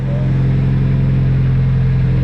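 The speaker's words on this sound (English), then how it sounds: "I got it running right now. It's just idling at the moment." Close, loud idle of a car engine still warming up after repair work, a steady low drone with a strong even hum and regular pulsing, unbroken and alone throughout.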